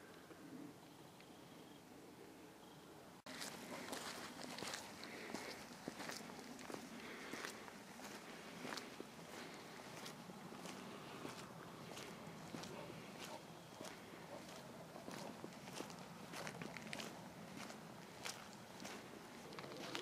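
Footsteps crunch along a country lane at night in a steady walking rhythm, close and regular, with faint birds cooing in the quiet background.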